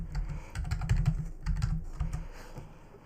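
Typing on a computer keyboard at a terminal, with quick close clattering keystrokes in two short runs separated by a brief pause, then trailing off.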